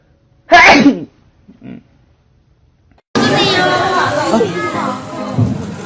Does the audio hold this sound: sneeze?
yes